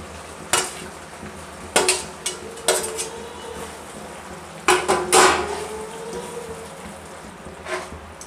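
Fried okra going into cooked gravy for dhaba-style masala bhindi, stirred in the pan: a handful of close, sharp clanks and scrapes of a spoon against metal, with quiet gaps between them and no talk.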